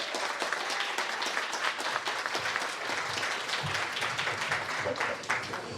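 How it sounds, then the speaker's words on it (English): Audience applause for Malika Maxwell at a Let's Talk Art event at Motoworld: dense, steady clapping from a crowd filling the whole stretch without pause. "Ladies and gentlemen, a big round of applause for Malika Maxwell"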